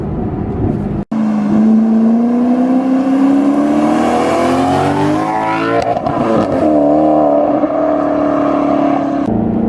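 A 2012 Maserati GranTurismo S engine revs hard and loud toward its 7,500 RPM redline, its pitch climbing steadily to a high whine, then dipping and surging again with no talking.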